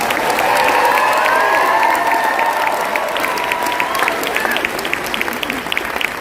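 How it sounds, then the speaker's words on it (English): Loud, sustained applause from a large convention crowd at an anniversary global convention in Las Vegas, dense clapping with some cheering and faint whistles, steady throughout. "please give yourself another huge round of applause"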